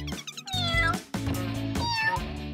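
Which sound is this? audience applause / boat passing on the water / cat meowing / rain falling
cat meowing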